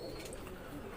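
A Kasuri pigeon coos among other birds, soft low throaty calls rising over a steady bed of background noise, with a few faint chirps, all in one brief second.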